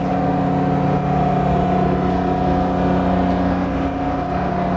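Loud, steady engine drone with strong tonal hum at an airport ramp, from a Cebu Pacific Boeing 757-200 or DC-9-30 with generator cooling running, constant throughout with no talk.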